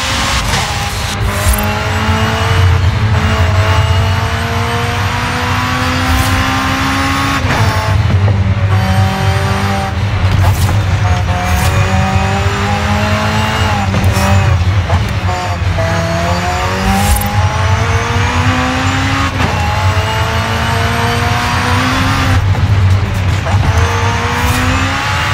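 A McLaren Senna races through Forza Horizon 5, its engine droning steadily and loud with repeated rising and falling rev sweeps through gear changes, and short bursts of tire squeal on turns.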